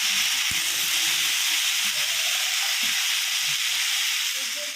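Mixed vegetables fry in a pan with a steady, soft hiss throughout, a low even sizzle without pauses or nearby talk.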